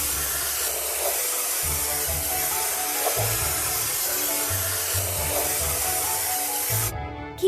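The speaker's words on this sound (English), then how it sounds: "Let's drag the spray gun to paint the chain and anchor." A steady, loud spray hiss runs continuously from a spray gun painting a chain and anchor in a game, with faint low background music underneath.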